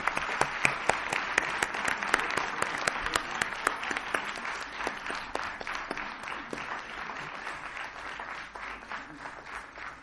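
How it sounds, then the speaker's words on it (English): A crowd gives a big round of applause to a performing group at a stage event, with many hands clapping with distinct sharp claps on top, gradually easing off toward the end. "Let's give a big applause to this group."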